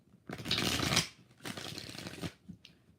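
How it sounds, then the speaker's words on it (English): Two bursts of tarot cards being shuffled, each a dense riffling rush about a second long, separated by a short pause and ending with a light tap. "Two more shuffles."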